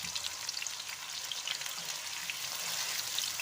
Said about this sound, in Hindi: अपना ऑयल चढ़ा दिया है। अब हम इसमें डालने लगे हैं अपना प्याज हस्बे ज़रूरत।